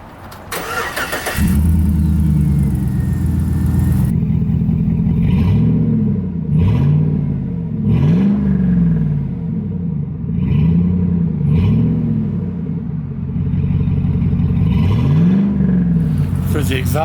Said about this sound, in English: it's a Black Widow exhaust